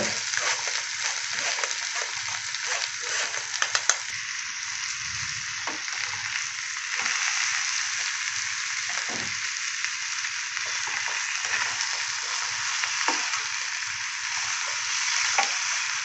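Boiled bottle gourd stirred into a tempered rasam in a pan, a steady loud sizzle and frying hiss throughout with soft scraping strokes of a spoon now and then, close and continuous, no talk.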